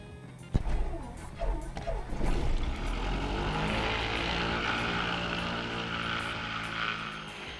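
Propeller engine on a twin-engine light aircraft cranking and catching, a sharp start followed by a steady rising drone with mains-like hum, close and loud, brief voice over it.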